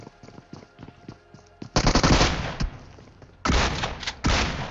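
Shotgun fire in the mobile battle royale BGMI, first a light run of distant clicks and pops, then several loud close blasts in bursts with sharp onsets and short echoing tails.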